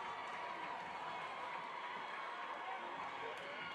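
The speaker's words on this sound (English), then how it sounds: "Fans on their feet." A basketball crowd at a boys' high school regional tournament game stands and cheers, a steady dense roar of voices and noise that holds at the same level throughout.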